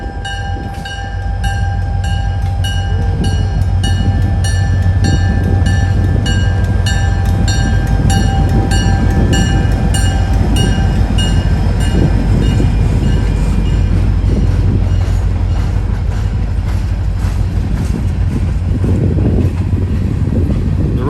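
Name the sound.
diesel locomotive train passing, running long hood forward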